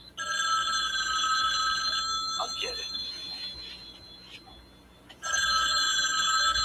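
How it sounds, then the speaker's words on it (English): A telephone bell rings in a 1980s TV drama scene. Loud, bright trills come in two bursts, one at the start and one at the end, and a voice speaks briefly during the pause between them. "Again, the phone rings, and guess who it is?"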